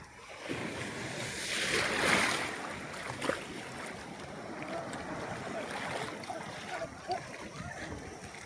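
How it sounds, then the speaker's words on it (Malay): Ocean waves at Pulau Kekabu, Marang, wash and surge steadily nearby, a broad rushing roar with a swell building then settling, and faint voices underneath. "Ombak tak kuat, ombak kuat."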